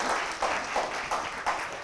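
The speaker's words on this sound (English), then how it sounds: "Big round of applause." An audience at a leadership talk at a university gives a short burst of applause, fairly steady clapping with slight swells.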